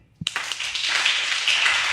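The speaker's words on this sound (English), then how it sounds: "Round of applause for you." Audience at a startup pitch event breaking into applause, beginning with a sharp first clap and quickly swelling into dense, sustained clapping from a sizable crowd.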